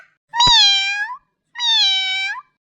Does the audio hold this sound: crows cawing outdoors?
no